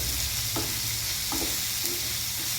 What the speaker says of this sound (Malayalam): നന്നായിട്ട് വഴച്ചെടുക്കാം